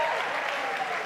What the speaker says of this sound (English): Let's give a round of applause for the kilt.